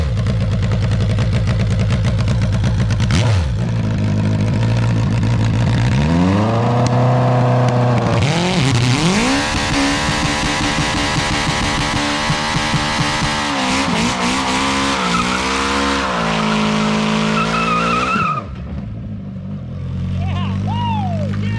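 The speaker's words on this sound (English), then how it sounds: "small practice burnout and see if it helps" An MG car does a first-gear burnout, its engine revving hard and climbing in repeated surges while the tires squeal loudly and steadily, then the revs drop away at the end; voices are heard nearby.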